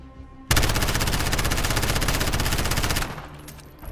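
An MP7 submachine gun in the video game Modern Warfare fires one sustained full-auto burst of about two and a half seconds, loud and evenly paced rapid shots, then stops abruptly.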